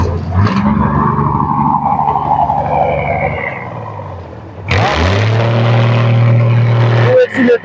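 A vehicle engine revs loudly as the driver presses the accelerator at a traffic violation stop in Pirwadhai, Rawalpindi. A rumbling idle rises into a sharp, sustained roar close by, with people talking over it.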